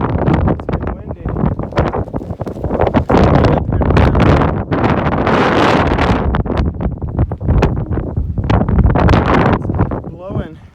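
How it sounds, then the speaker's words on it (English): Strong, gusty wind on a mountain summit in the White Mountains buffets the microphone in loud roaring bursts, with a voice speaking briefly beneath the rushing noise. "it's been windy."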